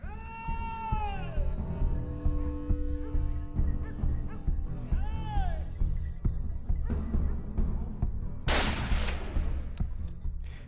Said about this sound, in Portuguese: Este foi um disparo traseiro.